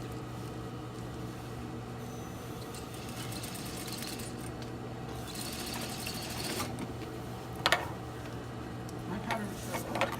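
A sewing machine stitching a shirt sleeve placket hums steadily and close throughout, with a few small clicks and handling noises near the end. No one speaks.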